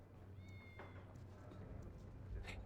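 Cat named Tepit in Baldur's Gate 2, a couple of short faint meows over a low steady game background hum, with brief tonal calls early and a soft burst near the end.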